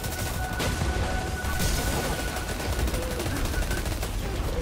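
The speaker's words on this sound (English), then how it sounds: "Kinetic energy auto rifle" Continuous auto rifle fire in the video game Destiny 2: a dense, steady stream of rapid shots running throughout at constant loudness, layered with other game sounds.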